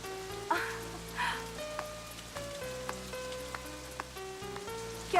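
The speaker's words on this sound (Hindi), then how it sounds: "इतनी बारिश में यहाँ कैसे?" Heavy rain pours in an outdoor film scene, a steady soft wash of patter beneath faint musical tones, with a few brief bursts.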